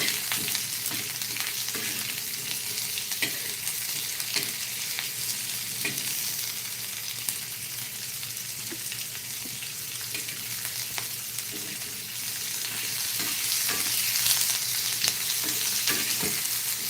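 Onion frying in a pan until browned for a homemade fish curry, with a continuous close sizzle and occasional stirring scrapes, no voices over it.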